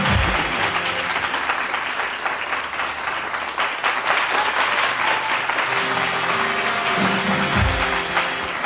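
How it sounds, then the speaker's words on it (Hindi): A crowd applauds loudly and continuously, dense clapping filling the whole stretch with no pauses. "तालियां होती हैं इस पे."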